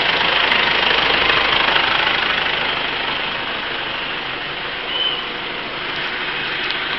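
Car engine fitted with a bolt-less HHO generator with built-in check valve runs at steady high revs, a loud continuous broadband roar that holds level and eases slightly, with a brief bump near the end.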